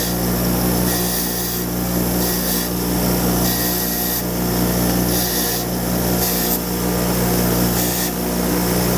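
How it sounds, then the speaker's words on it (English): A bench grinder's wire wheel scrubs carbon off a STIHL blower part, a loud steady motor hum under harsh scratchy brushing that swells and eases as the part is pressed and lifted in repeated passes. "I'll run this on my wire wheel on my bench grinder"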